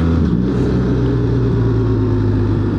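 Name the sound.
BMW R 1300 GS motorcycle engine accelerating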